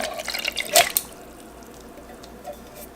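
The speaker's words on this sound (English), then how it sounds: "I'm going to pour it in this bowl here." Canned jackfruit in its liquid is poured into a bowl, with a short splashy gush and dripping near the start, then quiet trickles fading out.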